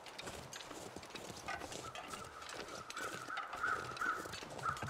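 Distant crows give several short, faint caws over a steady windy wilderness ambience in the video game The Long Dark, the calls growing slightly clearer toward the end.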